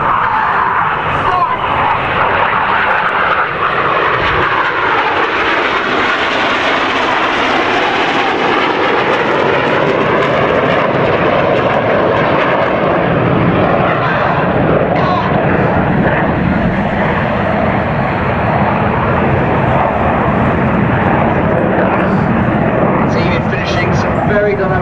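Formation of RAF Red Arrows jets at the Farnborough International Airshow 2012 roaring overhead in a loud, sustained broadband rush that swells and shifts as they pass, with talk over it throughout.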